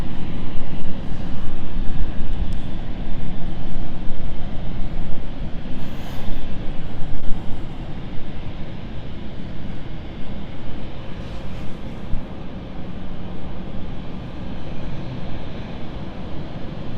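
Embraer jet on the Nice flight at London City Airport, a steady loud broadband engine roar filling the whole stretch with little change in level.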